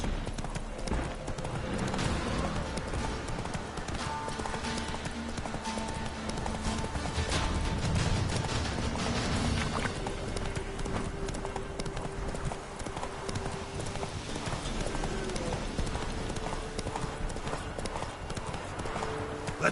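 Roach the horse gallops in The Witcher 3, hooves clip-clopping in a fast, steady rhythm that stays close and loud throughout, over a busy backdrop of game sound.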